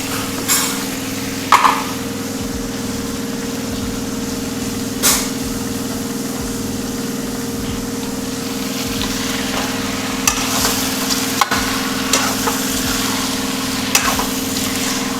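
Vegetables frying and being stirred in a pan in a home kitchen, a steady sizzle running throughout with occasional scraping stirs and clinks of the utensil against the pan.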